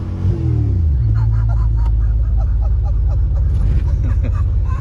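A 1987 Ford Mustang Fox Body engine revs up with a rising throttle sweep, then settles into a loud, steady low drone as people talk over it.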